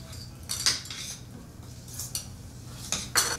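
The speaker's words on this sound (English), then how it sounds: "we're just gonna fold in a couple tablespoons of those grilled scallions that Teal just chopped" A utensil folding grilled scallions into mashed potatoes in a metal bowl or pot, several bright metallic clinks and scrapes spaced irregularly over soft, close, squishy stirring.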